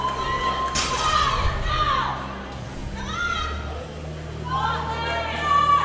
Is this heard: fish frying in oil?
no